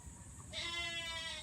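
A single goat bleats nearby, a wavering, nasal cry lasting about a second over steady outdoor background noise.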